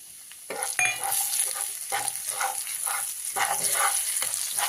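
Spice masala roasting in hot oil for tomato relish, a continuous crackling sizzle broken by repeated stirring scrapes of a spoon against the pan, close and clear.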